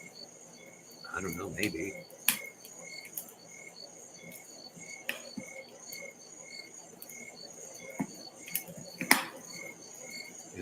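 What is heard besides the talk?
crickets chirping on a summer night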